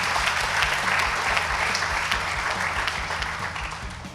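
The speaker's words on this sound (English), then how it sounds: "You would agree with me that the three of them deserve a round of applause from the audience." An audience applauds loudly and steadily at the finale of a season 2 school debate between Nyeri High School and MFA Lanet, with dense clapping filling the hall throughout.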